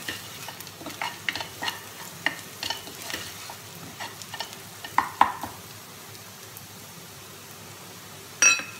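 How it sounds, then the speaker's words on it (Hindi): Cumin and coriander powder are stirred in a pan, with a soft sizzle under a series of light scraping and tapping strokes from the spoon, close by and fairly quiet, with a sharper clink near the end. "धनिया पाउडर 1 टीस्पून। इसको अच्छे से मिक्स करेंगे।"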